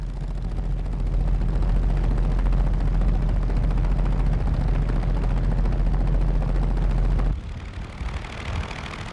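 An early Blériot monoplane flies with its period aircraft engine running, a loud steady rough drone that cuts off abruptly near the end, leaving quieter ambience.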